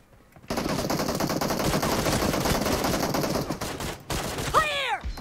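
Sustained rapid automatic gunfire from weapon damage testing in PUBG Mobile rattles loud and continuous for several seconds, breaks briefly, then resumes alongside a pinging, chirping game effect.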